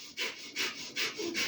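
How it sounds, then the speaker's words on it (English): Breath of fire yoga breathing, quick rhythmic forceful exhales through the nose, about four pumping breaths in a second and a half, close and moderately loud. "We're going to begin the breath of fire."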